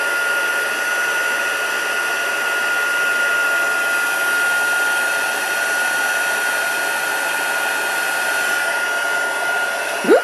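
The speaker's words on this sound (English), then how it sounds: "I love heat embossing." A heat embossing tool blows hot air in a steady, continuous whir while making a card, loud and unbroken for the whole stretch, ending with a brief bump.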